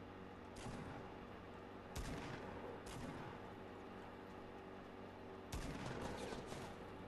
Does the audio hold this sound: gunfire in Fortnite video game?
yes